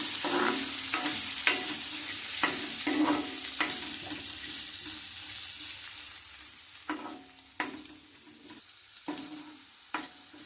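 Chopped onions and green peas frying in a pan for a hotel-style puri curry, with a continuous close sizzle under repeated scraping stirs of a spoon that come in irregular strokes; no talking.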